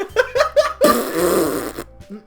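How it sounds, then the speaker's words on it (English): A loud, close fart in a Doki Doki Literature Club gaming session, a long rasping blast preceded by short sputtering bursts, followed by a brief giggle. "Evil fart."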